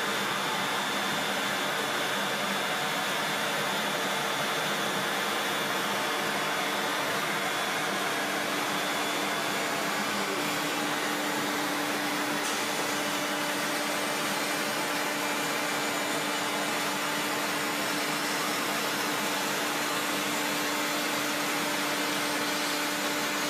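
A CNC machine cutting with its dust collector running, a steady loud broadband roar with a constant hum throughout, close and unbroken, no voices.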